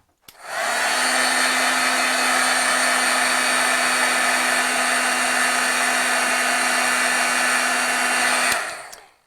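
A heat tool dries stamped ink on a paper oval scene, its steady loud blowing whir running for about eight seconds before cutting off.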